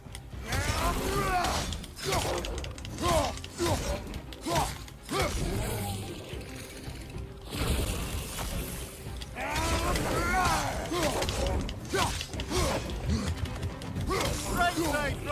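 A new door's mechanism grinds open in a dark fantasy video game after a combat section, with clanking gears, ratcheting and creaking layered over loud game music, continuous for the whole stretch.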